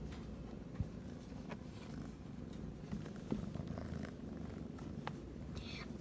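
A three-month-old kitten purrs softly and continuously up close, a low steady rumble with a few faint clicks and rustles, and no talking.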